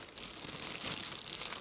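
A plastic bag crinkles and rustles continuously at close range as a SATA 2000/5000 respirator mask is unpacked, quiet and unbroken for under two seconds.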